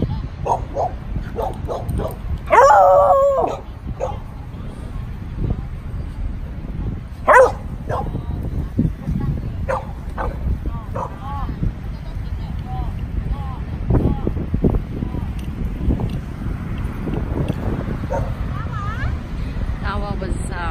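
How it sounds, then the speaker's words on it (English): Dogs in a dog park yip, bark and whimper in short bursts, close by, with a person talking over them throughout. "Amazing dog."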